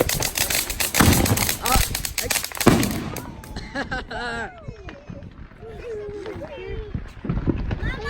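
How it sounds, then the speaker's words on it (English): Fourth of July fireworks bursting outdoors in a fast run of loud cracks and bangs, with people talking and exclaiming throughout. "Wherever Rudy got the fireworks from, we need to get those."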